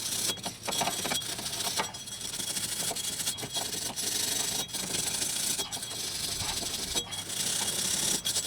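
Stiff hand brush scrubbing rust and corrosion off the brake hub of a Ford Fiesta, a steady rough rubbing and scraping in repeated strokes, close and fairly loud, with no talking.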